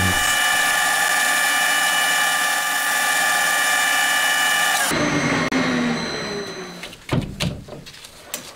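A lathe machines the face of a handmade motorcycle valve guide for a four-cylinder Honda Monkey-based engine build, a steady loud whine with a metallic cutting tone that stops abruptly midway, followed by fainter workshop clatter and knocks.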